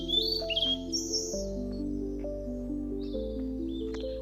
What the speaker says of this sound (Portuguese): deixe-se levar pelo som dos pássaros.